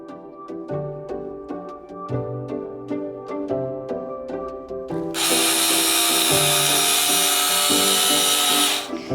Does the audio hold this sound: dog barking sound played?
no